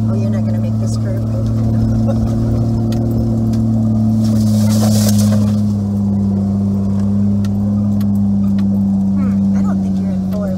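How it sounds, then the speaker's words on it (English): A mud truck engine drones loud and steady on an off-road ORV trail, its deep throttle note swelling briefly midway, with muffled voices inside the cab. "Oh, I got the throttle down."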